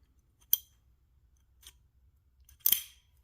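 Craftsman V-Series ratchet clicking in short, sharp bursts, three separate quick ratcheting clicks spaced apart, close and fairly quiet with no talk.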